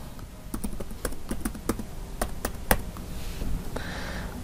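Rapid keystrokes on a computer keyboard as a password is entered, a quick run of close, crisp taps with brief pauses, heard alone without talk.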